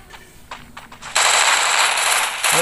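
Gunfire in the game Free Fire, from a shotgun and an MP50, starts as a few lighter shots and then turns into a loud, dense, sustained rattling burst that runs to the end.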